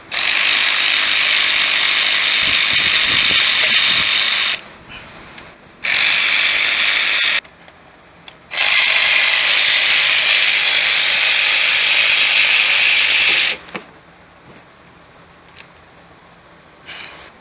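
A socket wrench on a swivel loosens valve cover bolts on a 2004 Toyota Solara 3.3 L V6, heard as three loud, harsh mechanical bursts of a few seconds each, separated by short quiet gaps.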